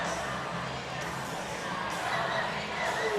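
Crowd noise at a high school boys' basketball game between Logan and Chapmanville, a steady murmur of many fans with faint cheers and shouts, moderately distant, with commentators talking over it.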